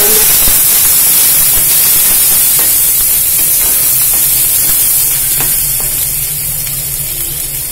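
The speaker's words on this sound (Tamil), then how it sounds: "இந்த வெங்காயம் நல்லா வதங்கும்" Steady sizzling and frying hiss of small onions sautéing in a hot pan, with occasional soft stirring clicks, continuous and fairly loud, easing slightly toward the end.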